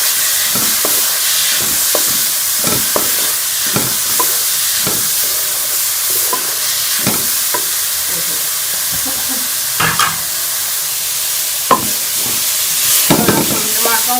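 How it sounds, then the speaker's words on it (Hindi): Spices and chopped tomatoes stirred in a pan, with a spoon scraping and knocking at irregular intervals over a steady background sizzle of frying. "इसमें हम ये टमाटर भी शामिल कर देंगे, इसको अच्छी तरह से मिक्स कर लेंगे।"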